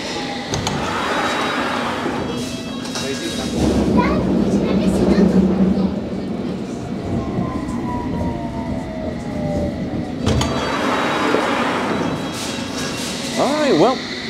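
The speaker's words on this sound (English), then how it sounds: "our lucky service is a Circle Line train, so yeah, it's actually pulling in right this second" A London Underground Circle Line train rumbles and squeals as it pulls into Temple station, with brake whines and rolling clatter; voices murmur faintly among the noise.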